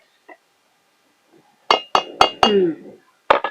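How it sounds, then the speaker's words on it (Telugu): A lid set onto a cooking pot of Kadaknath chicken curry in a village kitchen gives a quick series of sharp metallic clinks and clatters, close by, with brief faint knocks before them and one last clink after a pause. "మూత పెట్టరా ఇక."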